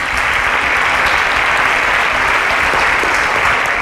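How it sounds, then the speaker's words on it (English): A live-event audience breaks into dense, sustained applause, loud and even throughout with no talking over it. "a round of applause for Habib, please."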